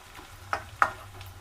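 Onions fry in a pan with a faint, soft sizzle and two sharp clinks from a utensil against the pan, heard alone.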